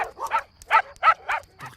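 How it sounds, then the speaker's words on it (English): Cartoon dogs barking in an animated Springfield scene: about six quick, yappy barks in rapid succession, close and loud, with brief gaps between them and no talking. "Oh, those horrible barks!"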